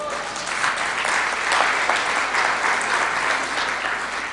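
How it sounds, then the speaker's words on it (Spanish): Sustained applause from an audience at a church or school talk, a dense steady wash of many hands clapping together that continues at even loudness throughout. "Un aplauso Isaac por eso"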